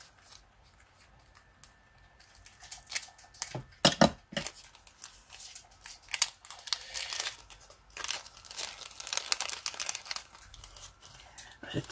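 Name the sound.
opening a birthday parcel, crinkling packaging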